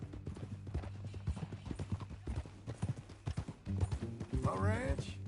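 Horse hooves clip-clopping at a steady walking rhythm in Red Dead Redemption 2, with characters talking over the hoofbeats and a horse whinnying briefly near the end.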